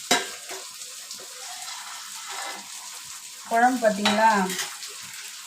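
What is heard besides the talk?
fish curry with mango boiling in a clay pot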